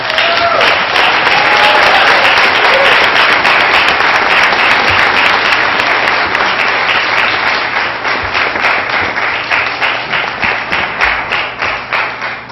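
An audience at a spelling bee applauds the contestants, a loud sustained round of clapping from a crowd that thins into scattered individual claps toward the end.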